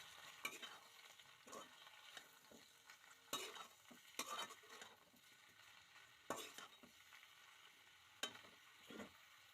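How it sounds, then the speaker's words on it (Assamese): Chicken pieces frying in a pan with lai xak greens, stirred with a metal utensil: a soft continuous sizzle broken by repeated scraping strokes and clinks against the pan, fairly quiet and close. "এতিয়া ভালকৈ লৰাই দিছোঁ।"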